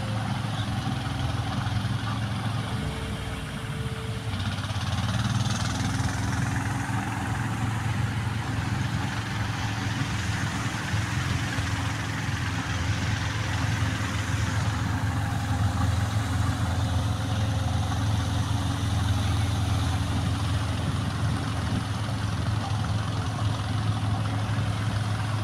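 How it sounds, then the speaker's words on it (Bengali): Trawler boat engine idling across the Shitalakshya river, a steady low droning chug heard from a moderate distance with water and ambient noise, continuous throughout. "ওপাশে ট্রলারের মিষ্টি শব্দ"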